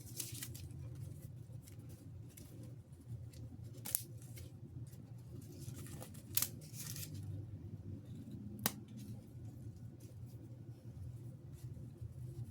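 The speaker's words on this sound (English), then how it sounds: "This is the water-soluble stabilizer. It's very easy just to pull out." Water-soluble embroidery stabilizer pulled away by hand from a cloth doll piece stitched on an embroidery machine, giving faint papery tearing with a few sharp snaps over a steady low room rumble.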